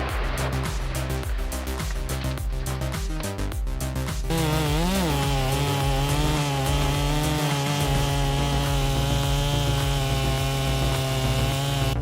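A big chainsaw cutting into a large cedar tree makes a loud, sustained engine drone that steadies and then rises and falls in pitch as the cut goes on.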